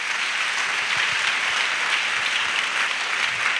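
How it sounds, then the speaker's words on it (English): A church congregation claps steadily as an offering to Jesus, a loud, dense and even wash of hands that holds throughout. "Clap offering to Jesus."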